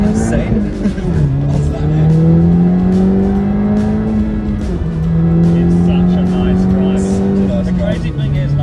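A Honda Civic hot hatch drives along a road, its engine droning steadily with pitch rising and dipping through gear changes, loud and close from inside the cabin.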